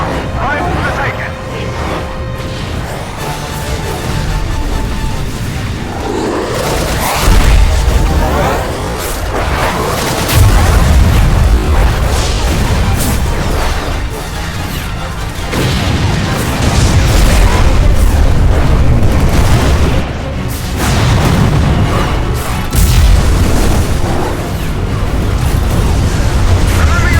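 Heavy booming cannon fire and explosions in a Final Fantasy XII battle cutscene, loud and continuous with repeated blasts over a dense rumbling backdrop and orchestral din.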